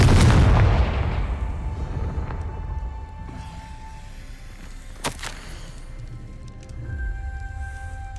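Spell blast from Hogwarts Legacy: a heavy booming explosion opens loudly, then fades into a rumbling tail, with a sharp crack partway through and a low background drone.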